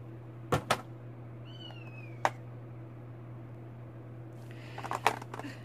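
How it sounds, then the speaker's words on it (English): A kitten cries for its mother in a few short, sharp calls near the start, then a burst of overlapping cries toward the end, over a steady low hum and room noise. "Excuse the kitten screaming in the background. It's looking for its mom."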